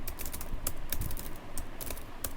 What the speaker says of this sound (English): Again we will type here anything.